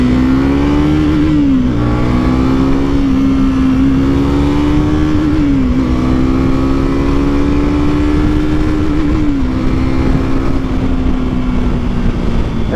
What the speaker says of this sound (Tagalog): Redlining sa Speed 400.